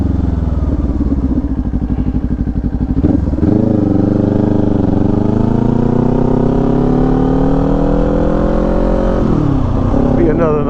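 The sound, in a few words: motorcycle riding on Bayhead Road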